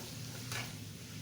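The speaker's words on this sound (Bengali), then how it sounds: "আমটা এই তেলের মধ্যে সিদ্ধ করে নেব" Raw mango pieces cooking in hot oil for a sweet mango pickle: a soft, steady low sizzle with a brief stirring scrape midway, faint and close.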